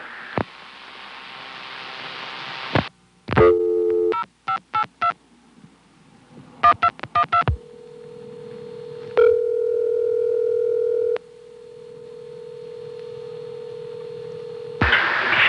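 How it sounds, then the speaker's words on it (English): Telephone line on a 1976 Stromberg-Carlson ESC exchange: a steady dial tone, then a rapid series of dialing pulses and tone bursts as zeros are dialed, followed by another long held tone that stops and resumes. "I tried dialing a bunch of zeros in a row."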